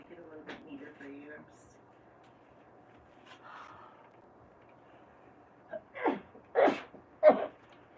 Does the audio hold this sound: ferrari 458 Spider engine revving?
no